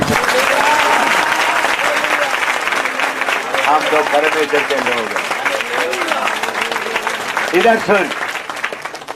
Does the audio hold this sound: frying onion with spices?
no